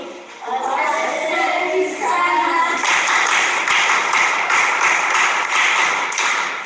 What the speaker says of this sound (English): You clap for him.